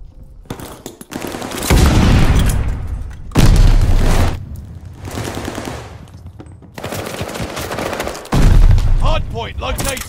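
Heavy video-game gunfire in a ranked Call of Duty-style hardpoint match: loud sustained automatic bursts and booming shots in several waves, close and dense, with voices talking over the fighting.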